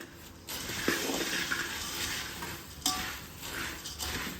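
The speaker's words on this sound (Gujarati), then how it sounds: "હવે આપણે આને હલાવી અને એકદમ સારી રીતે મિક્સ કરી લઈએ" Puffed rice chevdo being stirred in a pan makes a continuous dry rustle and soft frying hiss, broken by a couple of sharp metallic clinks of the spoon against the pan.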